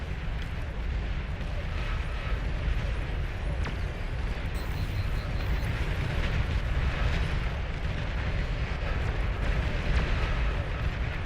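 A commander unit blowing up in the strategy video game Beyond All Reason, a steady rumbling explosion roar lasting several seconds with small pops and bursts layered over a dense battle din.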